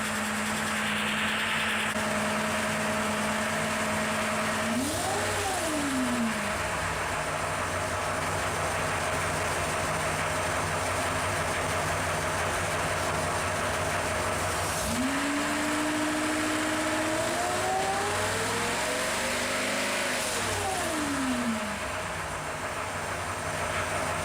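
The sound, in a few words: Ford 302 V8 engine with roller lifters idling on dyno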